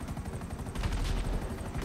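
Vehicle blowing up in the video game GTA V, a burst of deep booming blasts with rapid crackling bangs layered over a low rumble, loud and close.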